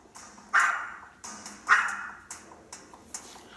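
A dog in a home barks toward the sofa, giving a series of sharp, close barks at an irregular pace, with two loud ones followed by several softer yips.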